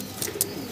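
A young pigeon coos softly a couple of times at close range over a quiet background hum, in a pigeon loft among many birds.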